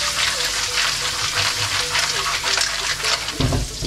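Snails sautéing in a pan with lard, Mallorcan sobrasada and ham, giving a loud continuous sizzle and crackle with stirring scrapes throughout and a heavier clatter near the end.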